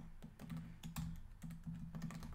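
Quiet, close keystrokes on a computer keyboard while code is entered come in uneven bursts of clicks with short pauses between them.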